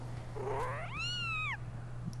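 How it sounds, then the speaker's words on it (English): A cat in The Legend of Zelda: Skyward Sword lets out a single clear, drawn-out meow that rises and then falls. It is close and distinct over a low, steady game background hum. "This cat's gonna fucking attack me."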